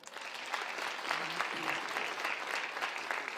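Audience applause after a presentation on land use policies and housing opportunity in the District, a steady patter of many hands clapping, moderately faint and sustained throughout.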